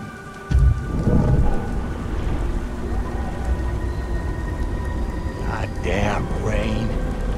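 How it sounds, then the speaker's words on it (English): Heavy rain pours steadily in the video game Beyond Two Souls while a loud thunderclap cracks early and rumbles on, a continuous downpour hissing underneath throughout, with a short vocal sound near the end. "Goddamn rain."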